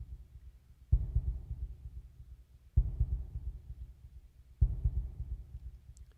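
In the video game Deltarune, a deep heartbeat thuds three times at slow, even intervals. Each low, booming pulse fades out before the next one starts.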